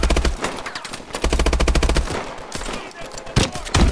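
Call of Duty: Advanced Warfare gunfire rattles in rapid automatic bursts, loud and close, with short pauses between strings of shots.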